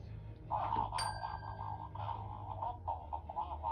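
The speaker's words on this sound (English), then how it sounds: "Alright, so that bell went off." A small ghost detector bell gives a sharp single ding that rings out briefly, faint and close, over a low background hum in a quiet room.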